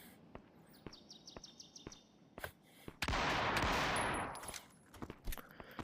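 Video game gunfire during strafing: sharp isolated shots pop between quiet gaps, then a dense burst of rapid automatic fire roars for about a second and a half before trailing back into scattered shots.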